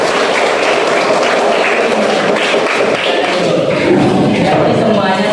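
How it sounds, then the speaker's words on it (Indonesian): Students in a classroom clap together in a dense, steady burst of applause that runs unbroken for about five seconds, close and fairly loud. "Tepuk tangan dulu."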